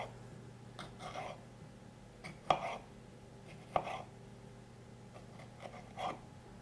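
Kitchen knife cutting tomatoes into chunks on a board, a handful of soft irregular chops with a couple of sharper knocks, close and fairly quiet with no talking.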